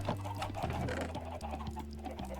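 Clucking from a chicken in Minecraft, a newborn chick in a hardcore survival game, with short repeated cackles over a steady game-music bed, loud and close, no talking.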